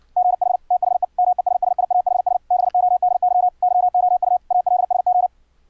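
Morse code CW keying tones sent over a Mumble voice channel, a clean steady pitch pulsing in fast, unbroken runs of dots and dashes, loud and close, with no voices.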